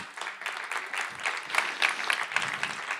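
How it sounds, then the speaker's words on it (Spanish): Church congregation clapping in praise during a sermon, a soft, fairly distant patter of many hands in uneven rhythm. "Aplaude al Señor"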